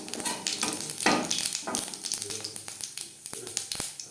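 Whole cumin seeds sizzling and crackling in hot oil in a pan, after fried lentil dumplings (bori) were cooked in the same oil for a Bengali bata fish curry, with bright continuous frying hiss, small pops and a few stirring scrapes, close up.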